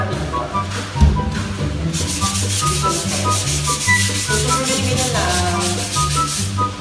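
Sandpaper rubbed steadily across a surface during home preparation before moving into a new house, a continuous scratchy rasp with rhythmic back-and-forth strokes, close and fairly loud with no talk.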